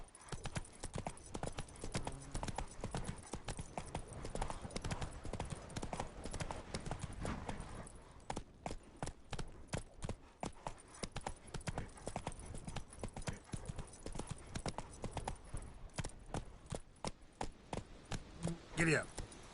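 Horse hooves clip-clop steadily in a PS4 video game as the horse is ridden, a fast continuous rhythm of close, sharp hoof strikes that slows into spaced clops near the end.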